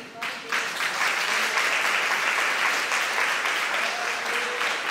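A church congregation breaks into steady applause, dense clapping that holds at an even level throughout.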